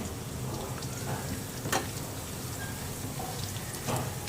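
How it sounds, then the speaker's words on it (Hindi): Garlic cut into long slivers sizzles steadily in a pan of hot oil with cumin seeds, a continuous close crackle with a few sharper pops, no talk. "लहसुन को मैंने लंबा लंबा काट लिया, वो डालते हैं। इसको अच्छे से फ्राई करना है।"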